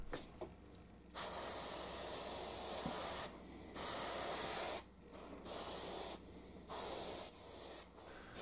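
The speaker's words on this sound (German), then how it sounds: "Um die kommenden Farben schön leuchtend zu erhalten, sprühe ich als nächstes mit weißer Farbe." Aerosol can spraying white paint onto homemade sea trout lures cut from HPL laminate sheet, a series of steady hissing bursts of a few seconds each separated by short pauses, close and fairly loud with no talking.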